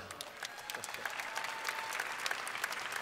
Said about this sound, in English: You can applaud that, that's all right.